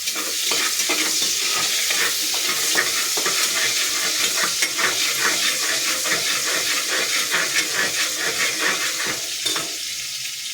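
Chopped onions frying in hot oil for a village-style methi pulao, a steady dense sizzle with frequent clinks and scrapes of stirring throughout, close and continuous.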